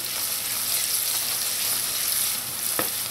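Onions, garlic and hot pepper frying for Trinidad-style okra, a dense, loud, even sizzle close up with one brief knock and no voices.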